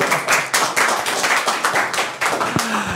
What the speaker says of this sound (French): On applaudit Thibaut. Applaudissez Thibaut.